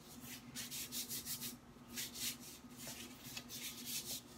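A wax strip is rubbed between the hands to warm it, giving a run of soft rhythmic rubbing strokes in quick bursts, close and quiet.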